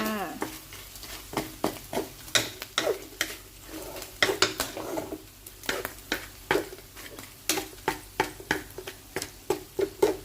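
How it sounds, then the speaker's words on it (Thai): Pre-fried tofu being stir-fried in a pan for pad thai, with a quiet sizzle underneath a string of sharp, irregular spatula scrapes and clacks against the metal. Nobody speaks. "นี่นะคะเต้าหู้นะคะที่แม่ได้เอาไปทอดเมื่อสักครู่ แม่ก็เอาลงมานะคะ เรียบร้อยแล้วนะคะ มาผัดลงไปเลยค่ะ"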